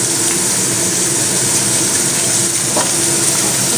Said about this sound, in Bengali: তেলটা খুব ভালো মতন গরম হয়ে গিয়েছে তো এবার দিয়ে দেবো কুচিয়ে রাখা পেঁয়াজ